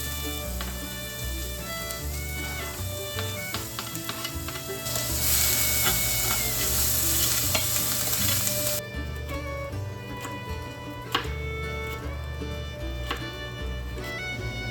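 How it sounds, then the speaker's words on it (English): Chicken for fajitas frying in a pan, a steady close sizzle that swells louder for a few seconds midway, with occasional stirring clatter and no talk. "All it really requires is cooking up the chicken and chopping up some vegetables."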